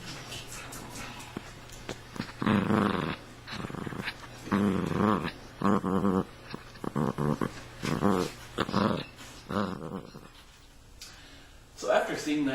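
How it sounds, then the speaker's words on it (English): A pet dog growls low and whimpers in short bursts, several separate vocal outbursts with pauses between them, fairly close and moderately loud. "I'm going to cut to a quick clip of one of my dogs, Sophie"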